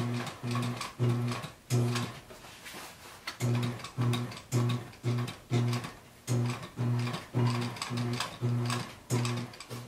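Boot leather is fed through a sewing machine in short, rhythmic mechanical bursts of needle and gear chatter, clustered into runs separated by brief pauses, moderately close and with no speech.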